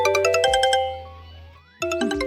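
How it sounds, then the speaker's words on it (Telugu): A mobile phone ringtone plays a bright, repeating electronic melody, cuts off for about a second with a sliding tone, then resumes, loud and close with no talking. "ముందు ఫోన్ లిఫ్ట్ చేయరా,"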